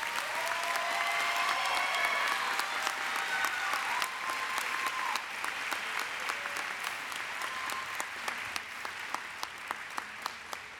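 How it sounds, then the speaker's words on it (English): Sustained applause from a seated audience at a college elementary and early childhood education graduation ceremony, a dense clatter of many hands clapping that continues for about ten seconds before thinning into scattered claps. "A round of applause, please, for the row."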